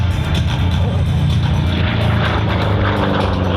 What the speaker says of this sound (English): The growl of that big engine.